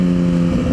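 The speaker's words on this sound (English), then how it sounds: "If I were just to downshift without rev matching," Motorcycle engine in fourth gear being downshifted without rev matching, a loud steady low engine drone near and alone whose pitch drops and then picks back up toward the end.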